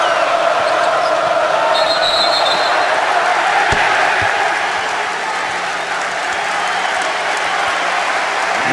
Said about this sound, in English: the crowd only continues to get louder here at Mackey Arena